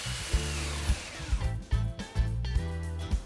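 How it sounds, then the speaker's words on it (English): Power sander working along the edges of a waney edge wooden bench seat on a workbench, a steady mid-loud whir broken by several short pulses and bumps as the tool is moved and lifted. "I'm sanding down the edges just to take the rough bits off."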